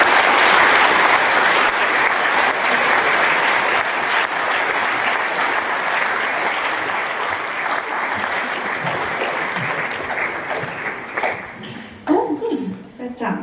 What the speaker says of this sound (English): Can we please give her a round of applause?